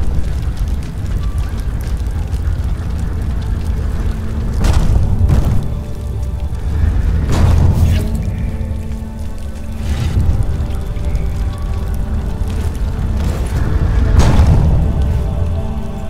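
Grenade blasts in Tomb Raider: Underworld, a few deep, heavy booms spaced several seconds apart over a steady low rumble.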